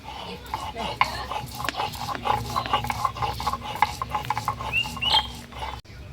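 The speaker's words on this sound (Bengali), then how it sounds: "অল্প করে জিরে নিয়ে নিয়েছি, এটাকে এখন বেটে নেব।" Rhythmic scraping and rubbing of stone on stone as cumin seeds are ground on a grinding stone, repeated strokes close up with faint background noise.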